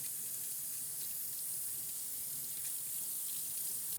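Strawberries rinsed under running tap water in a kitchen sink, a steady bright hiss of flowing water lasting the whole time, close and even, with no talking.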